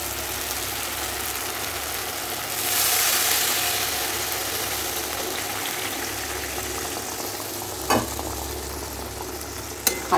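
Boiled potatoes go into spiced oil seasoned with salt and sugar and are stirred. A steady background hiss swells in a burst near the start, and a few sharp spatula knocks sound toward the end.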